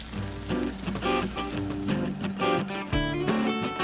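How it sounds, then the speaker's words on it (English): Oven-fried zucchini with a crispy crust sizzles and crackles just out of the oven, a close, busy patter of small pops and hisses running steadily over a background of music. "Hear that sizzle?"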